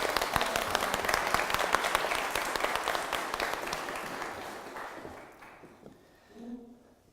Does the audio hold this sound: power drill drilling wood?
no